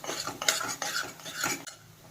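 Malai being stirred constantly in a pan over a low gas flame for adadiya pak: soft spoon scrapes and clinks against the pan bottom in a few quick strokes, close and quiet.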